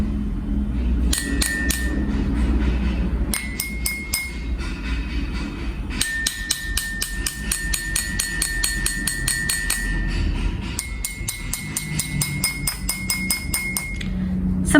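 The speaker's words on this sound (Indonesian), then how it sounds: "Ketuk bagian luar gelas menggunakan sendok kecil." A small spoon taps the outside of drinking glasses holding different amounts of water, giving rapid repeated metallic clinks in runs, each run ringing at its own pitch, close and steady with no voices.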